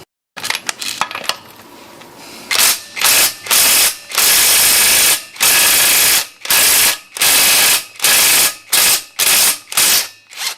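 A ratchet wrench loosens a tight nut on a car after WD-40 has soaked in, beginning with a few quick clicks, then a long series of loud, close ratcheting bursts each about half a second, evenly spaced with short pauses.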